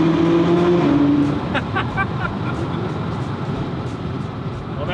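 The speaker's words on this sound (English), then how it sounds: "we're going to unleash those 570 horsepower with a little bit of sound in these Belgian mountain tunnels" A McLaren 570GT accelerates hard through a mountain tunnel in Belgium, its loud engine roaring and echoing off the walls, with a few shifts in pitch as it climbs through the gears.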